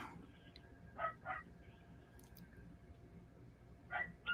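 Dogs let out a few short, faint yips and barks in scattered pairs, quiet and somewhat distant against a low background hum.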